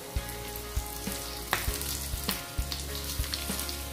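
Bombay duck (bombil) fish fries in oil in a hot pan over low heat, a soft continuous sizzle with faint crackles and a few sharp pops and taps at irregular intervals, close but quiet.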